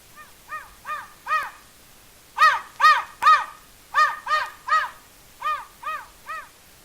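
Crows cawing in rhythmic groups of three or four harsh calls, loud and close, separated by short pauses.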